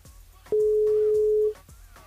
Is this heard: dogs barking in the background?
no